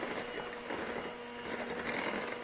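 An electric hand mixer with beaters whirs through banana caramel self-saucing pudding batter, a continuous, even motor whine with a steady hum and no pauses.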